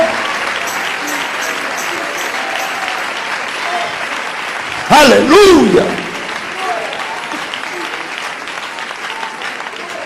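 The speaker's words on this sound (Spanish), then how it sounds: "Si lo crees, dale ese aplauso de alabanza." A church congregation gives a steady, full applause of praise during a testimony. A voice calls out loudly midway over the continuous clapping.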